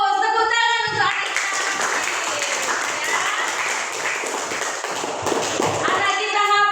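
Children in a classroom clap together in a dense, lively burst of applause lasting several seconds, with voices heard at the start and the end.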